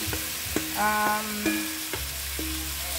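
Three small pieces of bitter gourd (ampalaya) sizzle and crackle as they are added to a hot pan for a simple home-cooked breakfast with egg, with steady frying hiss and a few sharp stirring clinks and scrapes.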